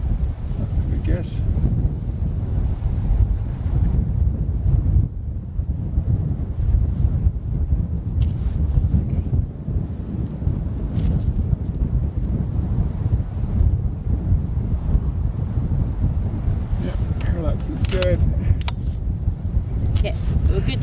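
Steady wind roars and buffets across a long-range rifle range where a 7mm Remington Ultra Mag is fired at over 3000 yards, a constant low rush with gusting texture throughout and no clear shot standing out.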